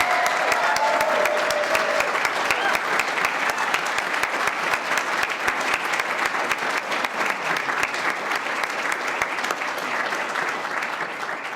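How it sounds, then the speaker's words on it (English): A graduation audience applauds steadily and loudly, dense clapping from a large crowd that holds at an even level throughout. "Please join me in giving them a rousing round of applause."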